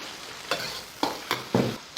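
Minced meat stir-fried with scallion, ginger and soy sauce, a low sizzle punctuated by four quick spatula scrapes and clacks against the wok, close and clear.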